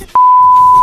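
A loud censor bleep, a single steady electronic tone, cuts in sharply after a brief quiet moment and holds for nearly a second, with faint background sounds under it.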